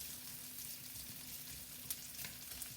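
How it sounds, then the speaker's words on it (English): Smoked pancetta sizzles steadily in olive oil in a pan, a continuous close frying hiss with a few sharper crackles and pops and no voices. "Starting to saute nicely."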